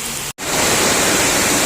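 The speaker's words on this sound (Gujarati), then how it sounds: "તો જો અમારે ધોધમાર વરસાદ આવી રહ્યો છે." A heavy evening downpour roars as a constant, loud wash of rain, broken only by a brief dropout early on before the steady hiss resumes.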